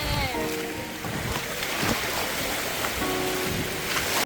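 A tropical rain shower falls near a beach in Caramoan, a dense hiss of rain with some engine-like hum and faint tonal whines underneath, steady and fairly close.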